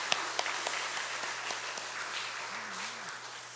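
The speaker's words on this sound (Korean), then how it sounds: "저 5층까지 들릴 수 있도록 우리 격려의 박수 한번 하겠습니다" A church congregation applauding in encouragement, a soft, dense patter of many hands with a few sharper claps standing out, steady for a few seconds and fairly distant.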